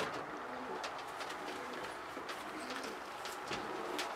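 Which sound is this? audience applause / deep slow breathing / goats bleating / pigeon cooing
pigeon cooing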